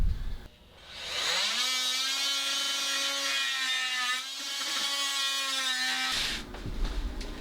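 A power saw blade cuts through the roof openings of a 1970s truck camper, a steady whining buzz running about five seconds with a ragged rasp, then stopping into quieter handling noise.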